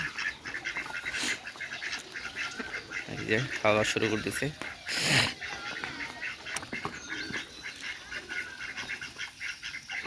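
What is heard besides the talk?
ducks quacking while eating rice and paddy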